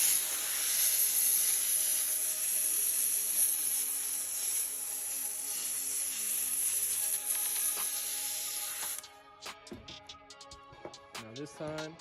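A handheld steamer blasts a loud, continuous hiss of steam onto Dior B22 designer sneakers, then cuts off, leaving short tonal sputters and clicks.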